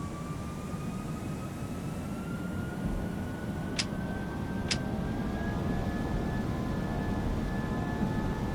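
Airbus A321neo airliner in a flight simulator game, engines spooling up for takeoff: a loud, continuous roar with a rising whine, a steady wash of engine noise throughout and two brief clicks partway through.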